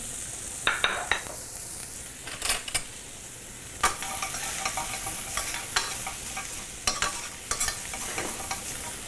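Chopped shallots sizzle in a pan over lowered heat, a steady frying hiss broken by several sharp scraping stirs of a utensil, close and alone.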